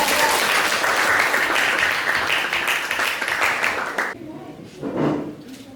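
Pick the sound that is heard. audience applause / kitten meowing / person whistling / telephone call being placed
audience applause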